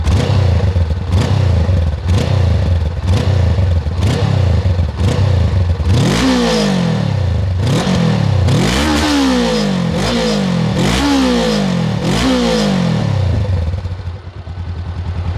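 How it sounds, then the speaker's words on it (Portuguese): A 2023 Honda CB 500X twin-cylinder motorcycle engine is blipped repeatedly, loud and close: a steady rhythm of short throttle rises at first, then deeper, longer revs that swell and fall back to idle, with no talking. "Não é um dos roncos mais bonitos que a gente tem, na minha opinião, para motores bicilíndricos."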